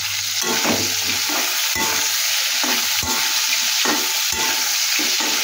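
Small scaled fish frying in a pan for a fish curry, a loud continuous sizzle broken by regular scraping stirs of a spatula roughly every second, no talking.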